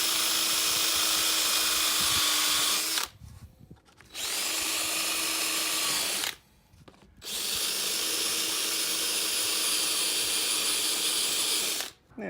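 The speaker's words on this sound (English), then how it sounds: "I'm going to now drill through the plastic lid and attach it." A power drill bores through a plastic lid in three sustained, steady whirring bursts separated by short pauses, close and loud with no talking.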